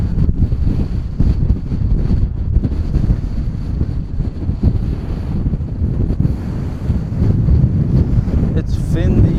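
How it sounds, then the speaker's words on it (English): Loud wind roars and buffets the microphone as a cyclist rides downhill on a gravel track in Ireland, a constant low rumble with gusting bursts throughout. "It's windy."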